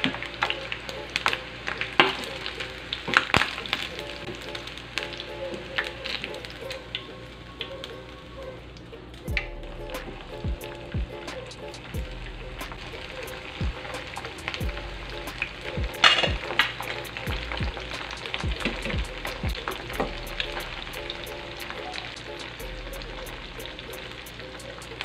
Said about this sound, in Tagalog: luto na yung pangalawang batch na prito natin